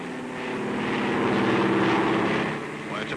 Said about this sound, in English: it's a plane